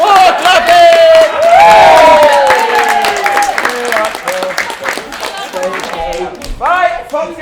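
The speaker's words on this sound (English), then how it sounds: "More clapping!" A crowd at the close of a 2022 Midsummer Night's Dream stage performance claps and cheers loudly and continuously, whoops rising over the steady applause, with voices calling out throughout.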